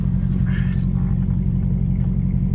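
A Dodge Charger Hellcat rumbles close by with a deep, steady low engine drone that stays loud and even throughout, a brief faint voice audible over it.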